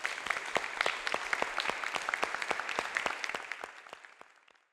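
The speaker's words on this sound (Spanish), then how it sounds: "Por favor, un aplauso a Isa Carrillo." A crowd at a Spanish-language panel discussion applauds steadily with dense, crisp clapping that fades out over the last second.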